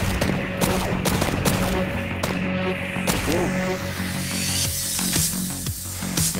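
Rapid gunfire in the VR shooter Pistol Whip on hard mode, with repeated sharp shots in quick bursts over a steady electronic music bed, loud and close throughout, with no talking.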